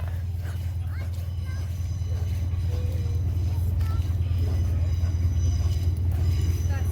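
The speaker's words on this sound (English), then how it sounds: "There's the King's Cross to Edinburgh train." A King's Cross to Edinburgh train rumbles past in York with a steady low roar and rhythmic rattle of wheels, continuous throughout, with faint voices in the background.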